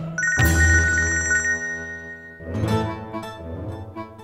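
A telephone ringtone plays loudly and close, with a bright repeating electronic melody in two bursts separated by a short pause.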